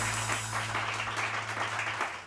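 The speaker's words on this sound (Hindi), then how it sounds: "बहुत सारी तालियां" Studio audience applause on a Pakistani Samaa morning TV show, a brief, fairly soft wash of clapping under a low steady hum.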